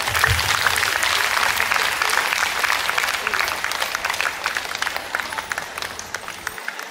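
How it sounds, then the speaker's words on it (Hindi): The audience at a diocese Women's Day ceremony claps steadily throughout, a sustained, even wash of many hands close by. "ताली मारा"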